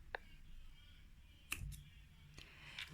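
Scissors snipping crochet yarn on a child's crocheted shoe, a few sharp, quiet clicks spaced apart against a low background hum.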